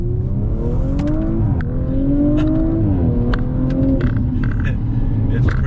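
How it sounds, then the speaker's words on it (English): Audi RS5 Sportback accelerating hard with paddle shifters in manual mode, its engine note climbing steadily through several gears with brief dips at each shift, loud and close from inside the cabin, with no talking. "So let's go ahead and accelerate, see what she's got."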